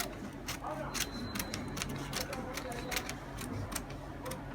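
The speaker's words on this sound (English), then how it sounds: "We are going to cut it out like this." Scissors cut out a paper corset pattern with repeated crisp snips at an irregular, unhurried pace, close and moderately quiet over a faint background hum.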